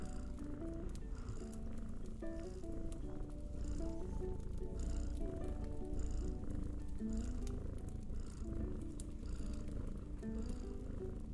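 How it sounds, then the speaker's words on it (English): A domestic cat purrs loudly and steadily right up close, a continuous rumbling purr with no pauses and no voices. "So does this purring sound like any of your cats?"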